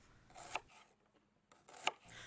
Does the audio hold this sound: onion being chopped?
yes